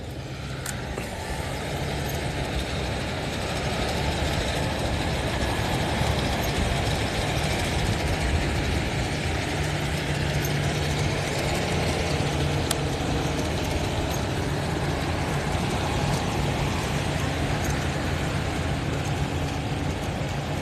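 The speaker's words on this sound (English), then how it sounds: "the noise is from the tractors." A steady, loud engine drone from tractors near the Haulover Inlet in Miami at sunrise runs continuously and unchanging throughout, with no talking.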